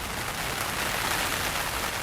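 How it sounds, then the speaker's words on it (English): Heavy rain pours down steadily on an open boggy trail in the Scottish Highlands, a dense, loud, unbroken hiss of falling water with no voices. "the rain really starts to pour"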